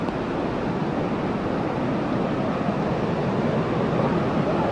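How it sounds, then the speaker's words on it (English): Strong wind roars and buffets steadily near Niagara Falls at the Cave of the Winds, a loud, continuous broadband rush mixed with the surge of falling water, with no break across the whole stretch. "You can see the wind. It's picking up."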